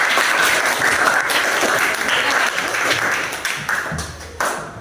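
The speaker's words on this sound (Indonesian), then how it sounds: "Tepuk tangan." Students in a ninth-grade classroom applaud with a dense burst of clapping that gradually thins out into scattered individual claps.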